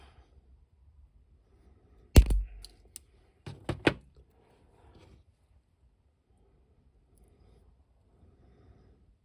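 Wire cutters snip a long metal paper clip during a toy goggles repair, giving a sharp snap followed by a couple of quick clipping clicks, close and otherwise quiet.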